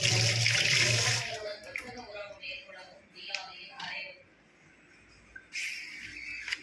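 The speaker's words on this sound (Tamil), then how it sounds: "கையை கழுவிக்கிறேன் டேப்பில்" A kitchen tap runs as hands are washed while cooking chicken gobi manchurian, with splashing water loud at first, then fading to short gurgles and drips, and returning briefly near the end, with a voice talking quietly in between.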